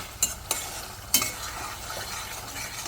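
Spice paste frying in hot oil for a borali fish curry, a soft steady sizzle with a few sharp spoon scrapes and clinks against the pan, close and moderately quiet.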